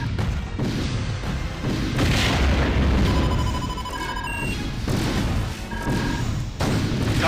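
Booming explosion of a destroyed target in a space combat game, a loud rumbling blast that swells and lingers over dense battle noise with electronic tones.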